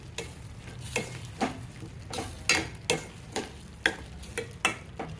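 Ridge gourd and tomato curry being stirred in a pan, a series of sharp scraping and tapping strokes at an irregular, roughly steady pace over a low sizzle, close and clear with no voices.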